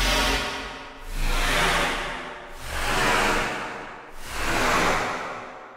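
Noisy synthesized whoosh made in the Massive software synthesizer: four broad, airy swells that rise and fall in a steady rhythm, each one sweeping up and then dulling as its filter closes, loud and alone.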